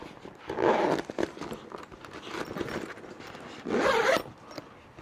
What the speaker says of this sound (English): this is the bag that I put my battery in, and that zips up.